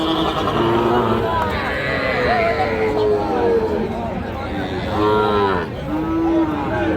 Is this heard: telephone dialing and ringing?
no